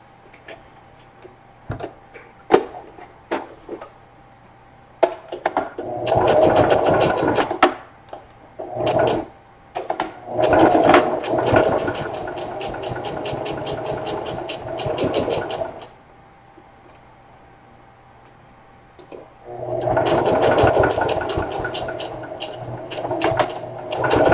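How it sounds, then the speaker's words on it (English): A sewing machine stitches straight across the seam of a lunch tote in several bursts of rapid whirring, with short pauses and small clicks and taps between runs, close and with no talking. "We're just going to sew straight across the seam."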